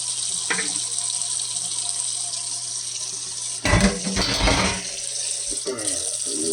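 Hot water runs steadily into a kitchen sink for washing dishes with dish soap, a constant close hiss with a louder gushing burst midway.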